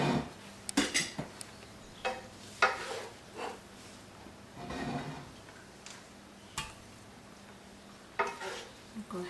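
Beef lo mein is served from a heavy, thick-bottomed pan into a bowl, with metal utensil scrapes and clanks and soft stirring shuffles in irregular bursts, close by and moderately loud.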